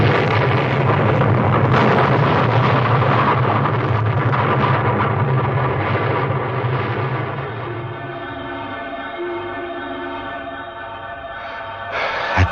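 Explosion sound effect in a radio mystery drama, a loud sustained rumbling roar that slowly fades over several seconds into a lingering tonal hum, with no voices over it.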